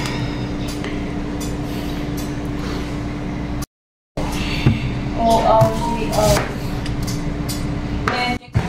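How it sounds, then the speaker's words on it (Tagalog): A knife chops through white onion on a board, giving irregular hard thuds and taps over steady background noise. The cuts come in a short brief gap and cluster mostly in the second half. "naghiwa tayo ng white onion"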